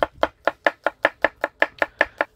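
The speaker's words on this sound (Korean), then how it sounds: "이제 양파도 가늘게 채 썰고 마늘도 가늘게 썹니다." A knife thinly slicing onion and garlic on a cutting board, with about eleven crisp, evenly spaced taps close up and alone, during outdoor cooking over a wood-fired oven.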